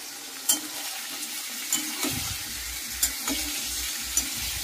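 Mutton liver frying in a pan with tomato and chilli, a steady close sizzle with a few sharp stirring scrapes spaced through it.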